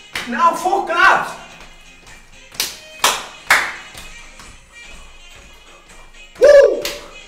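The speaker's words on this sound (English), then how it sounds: "now four claps." A group of schoolchildren claps in unison, sharp separate claps with short pauses between them, mixed with a voice and ending in a loud cheer.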